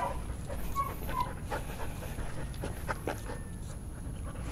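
A Belgian Malinois pants steadily and rapidly close by during heel training, with a few faint whimpers over a constant background hum.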